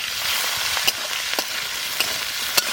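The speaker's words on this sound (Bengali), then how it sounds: "আমি দিয়ে দেবো আলু একসাথে একটু কষাই নেবো আলুটা" Potatoes with green chili and garlic fry and get stirred in a pan during outdoor village cooking by a pond, a continuous sizzle punctuated by a few sharp spatula knocks and pops.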